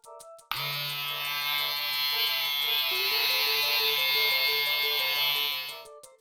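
Steady electric shaver buzz from the Sega CD game Snatcher, a loud, continuous tonal drone running nearly six seconds alone, starting abruptly after a brief pause and cutting off at the end.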